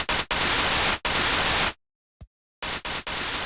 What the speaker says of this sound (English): use this white noise sample, maybe filter a tiny bit of top end out of it